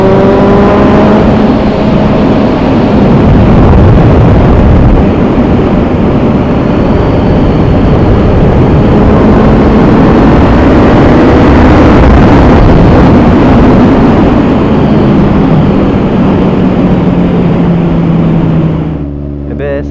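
A Suzuki GSR 750 motorcycle fitted with a -1 front sprocket and +3 rear sprocket pulls at higher revs, a loud, steady engine drone rising in pitch, heard close from the rider's position with wind noise, and someone talks over it.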